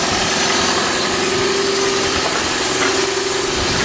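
Toyota Prius engine running steadily after being misfuelled with diesel, a loud continuous idle drone with a rough, vibrating edge and hiss throughout, no talking.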